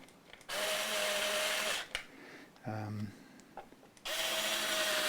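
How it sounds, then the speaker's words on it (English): A cordless electric screwdriver whirring in two long bursts while adjusting a Fender Stratocaster, with a short slower run between them as if low on charge, close by. "I think the screwdriver needs charging"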